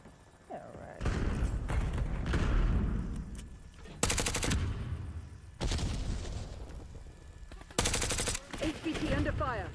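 Video game gunfire comes in several sharp bursts, each a loud rattling volley, separated by quieter stretches of game sound and background noise.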